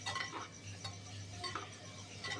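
Food fries in a pan for a breakfast rice dish, a faint sizzle with soft stirring scrapes and light utensil taps close by.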